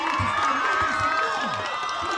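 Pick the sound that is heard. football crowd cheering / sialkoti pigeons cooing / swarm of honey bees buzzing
football crowd cheering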